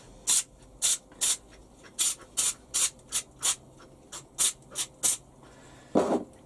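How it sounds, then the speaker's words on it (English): Short hissing bursts of lubricant spray onto the teeth of a Warco lathe three-jaw chuck, about fifteen quick, close puffs in an uneven rhythm, ending on a slightly longer spray, with no talking. "And now I'm going to spray the individual teeth."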